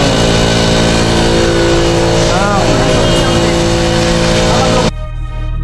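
Yamaha Aerox 155 scooter engine held at high RPM, a loud, steady, dense drone with strong harmonics and a slight pitch sweep, cutting off abruptly near the end.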